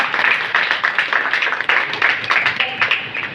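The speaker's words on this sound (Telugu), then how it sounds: "Please give her clap." Audience applause for a panel guest at a discussion event, steady rhythmic clapping from many hands at moderate distance, sustained throughout with no break.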